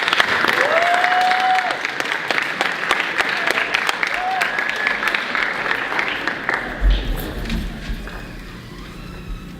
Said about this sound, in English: give Mr. Lawrence a big old round of applause